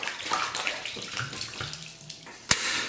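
Water pouring into a pot holding beef ribs, a continuous splashing stream that runs for about three seconds, ending with a short clatter.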